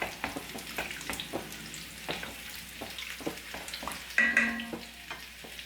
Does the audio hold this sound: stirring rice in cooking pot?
yes